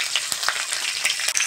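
Spices and green chilli fry in mustard oil in a kadai, a short burst of loud, crackly sizzling with sharp spits and pops.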